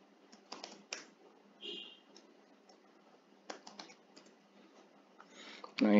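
Sharp computer mouse clicks and keyboard taps sound while a file is uploaded to an online exam system, scattered and close, with short bursts of speech in between.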